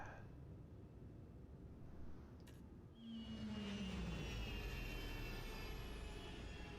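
Anvil Arrow spaceship thrusters in Star Citizen roar up as a steady loud wash with a brief rising tone, over a continuous engine drone and low rumble, with no talk.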